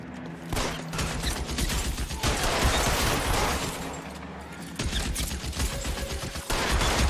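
Shotgun fire in the L.A. Noire video game: a dense, loud, continuous barrage of gunshots and mechanical clatter that runs through the whole stretch with barely a pause.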